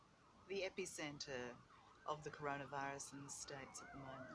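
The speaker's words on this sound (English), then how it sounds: "I hear 4 sirens right now outside." Ambulance sirens wail faintly outside in New York City, their rising and falling tones drifting beneath a man's close speech.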